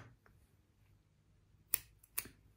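Two crisp scissor snips cut through grey yarn beside a knitting machine, sharp and close, spaced about half a second apart in a quiet room.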